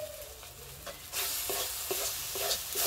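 Spice masala of coriander powder and chilli powder fries in a pan, a steady close sizzle that swells louder partway through, broken by the repeated scrape and clack of a spoon stirring against the pan.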